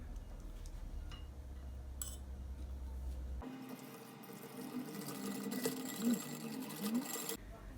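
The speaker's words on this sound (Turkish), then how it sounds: "Evet yumurtalarımı da güzelce çırptım." Electric hand mixer whisking two eggs into brown sugar for strawberry cookie dough, a steady close whirring motor with rattling beater clicks that starts partway through and runs loud to near the end.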